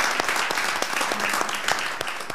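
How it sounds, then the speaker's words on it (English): A room of attendees at a school board meeting gives a steady round of applause, a continuous, moderately loud patter of many hands clapping with no talk over it. "let's give them a nice round of applause again"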